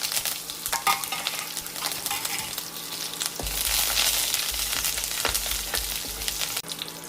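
Mustard seeds, dried chilies and curry leaves sizzle in hot coconut oil in a pan, a loud crackling fry that swells as the ingredients drop in, with stirring scrapes and no voices.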